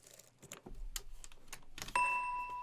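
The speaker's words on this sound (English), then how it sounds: "those are the bells solo" Solo bell tones in a soul sample: soft scattered strikes and taps over a low hum, ending in a bright sustained ringing bell chord with a noticeable hiss of air and noise.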